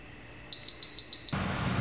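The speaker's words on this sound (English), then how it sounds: "If you've got something wrong and a wire's not connected up properly, it'll beep like this." Radio dog fence transmitter signalling a wiring fault with a disconnected boundary wire: a series of short, sharp electronic beeps repeating at a steady rhythm, close and clear over a quiet background.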